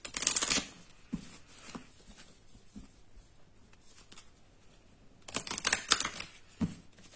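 A deck of oracle cards being shuffled: two bursts of riffling and shuffling at the start and near the end, with soft taps and card handling in between, close and fairly quiet.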